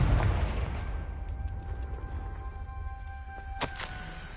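A Confringo blasting spell explodes in Hogwarts Legacy, a deep booming blast that decays into a rumbling tail, followed by a couple of sharp crackling pops near the end.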